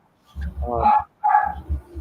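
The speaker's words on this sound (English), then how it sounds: "That's a dog of our next door neighbor." A neighbor's dog next door barks twice in quick succession, clear and moderately close, heard alone without talk over it.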